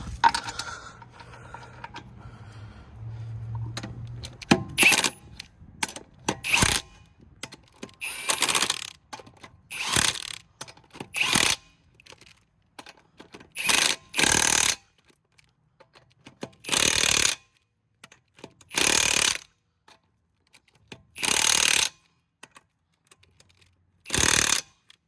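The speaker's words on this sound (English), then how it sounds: "Tighten the lug nuts." A 2019 GMC Acadia wheel has its lug nuts run down with a tool, heard as bursts of loud mechanical ratcheting and whirring separated by pauses, starting with softer clinks and rustling.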